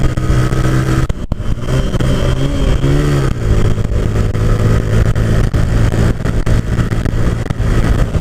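A motorcycle engine drones loud and close on a gorge road, its pitch sweeping up and down as it downshifts for a climb, with wind rush over a steady mid-range roar.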